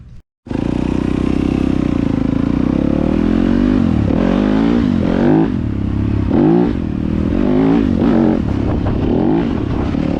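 A Yamaha YZ250FX dirt bike on fresh Dunlop MX33 knobby tires, ridden up close with a loud, continuous engine drone that surges and drops with throttle changes after a brief quiet start.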